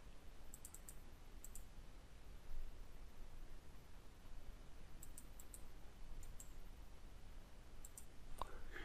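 Sharp mouse clicks during editing in After Effects, a few scattered taps in small clusters at a desk, faint and close over a steady background hiss with no speech.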